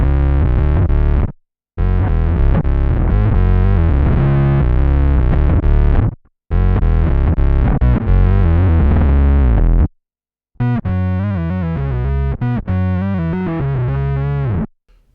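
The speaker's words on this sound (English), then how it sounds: "you can start to get a pretty filthy synth sound. So crank the square wave up and the sub." An EHX Bass Micro Synth pedal with its square wave and sub voices cranked, playing a loud, gritty, fuzzy synth-bass line in bursts separated by brief silences, the final phrase sounding thinner and more sputtering.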